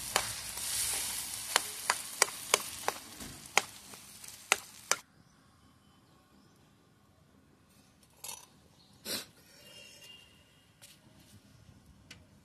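A pan of vegetable curry with pigeon peas and cauliflower fries in a home kitchen, heard as a soft sizzle with a run of sharp utensil clicks on the pan, then a quiet simmer broken by a few scrapes.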